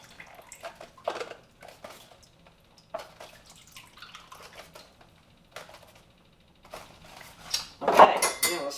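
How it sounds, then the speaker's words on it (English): Gluten-free chicken soup being stirred in a pot, with intermittent clinks and scrapes of a utensil against the pot and a louder clatter near the end, close and without talk. "Stir this around a little more."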